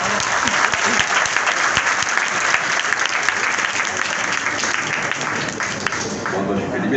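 A large audience claps loudly and steadily, welcoming speaker Qasim Ali Shah onto the stage at an event, with the applause holding for the full seven seconds.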